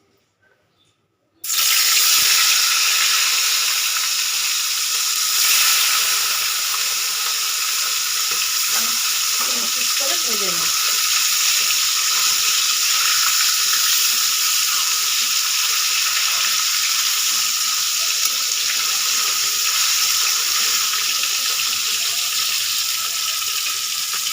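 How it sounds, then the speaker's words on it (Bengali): Pieces of fish frying in hot oil in a wok give a loud, steady broadband sizzle that begins abruptly and holds for over twenty seconds, with a few brief stirring scrapes partway through and no talking. "কড়াইতে আগে তেল দিয়ে রেখেছিলাম তেলটা পুরো গরম হয়ে গেছে এবার আমি এক এক করে মাছটা ছেড়ে দেবো"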